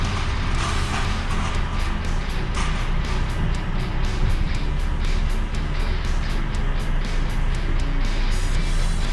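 A truck hauling a trailer pulls round, its engine droning low and steady nearby with a rhythmic series of beeps running through much of it.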